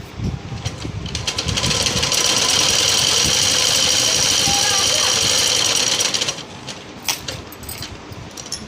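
A sewing machine running a straight stitch through a frock lining, a steady whirring hum of about four seconds, preceded and followed by handling clatter and speech.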